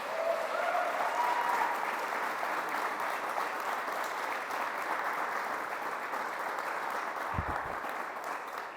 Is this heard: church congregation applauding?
yes